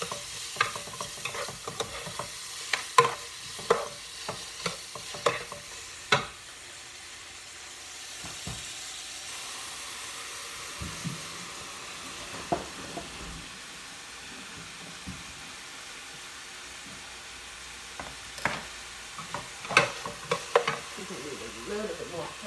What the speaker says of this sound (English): Just let it saute just a little bit.